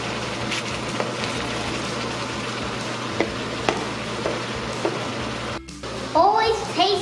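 Minced tofu sizzles and fries in a pan while being gently stirred, a steady broadband crackle with occasional clinks, and a voice talks briefly near the end.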